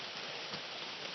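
Rain falls at a waterfall campsite as a soft, steady hiss of drops, faint and constant throughout.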